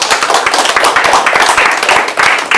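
Audience applause at the 20th Oikos seminar: a dense, steady wash of many hands clapping close by, sustained without a break for a few seconds.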